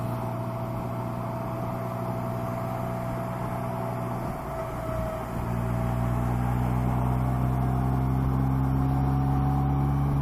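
A Polaris trike engine lugs steadily in top gear between 50 and 60 mph, a continuous close drone with strong low harmonics that thickens slightly partway through, with no talking.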